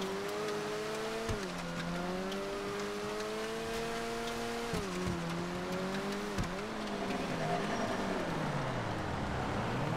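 A car drifts through a corner in GTA FiveM, with a steady, close engine drone whose pitch dips and climbs as it revs, plus a faint tire squeal and no voices.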